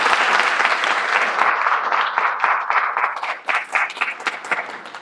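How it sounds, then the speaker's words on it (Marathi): Loud, sustained applause from a satsang audience fills the whole stretch, dense and continuous before tapering into scattered claps near the end. "एकदा जोरात टाळ्या व्हायला पाहिजे"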